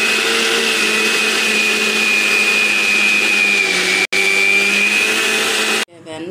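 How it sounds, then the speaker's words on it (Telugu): A kitchen mixer grinder whirs steadily and loudly as it blends cream with water to make butter, its high motor whine holding for several seconds before cutting off abruptly. "ఇలా మిక్సీలో వేసుకొని 2 మినిట్స్ కొంచెం వాటర్ వేసుకొని మిక్సీ తీసుకుంటే మనకు వెన్న వేడిగా వచ్చేస్తుంది"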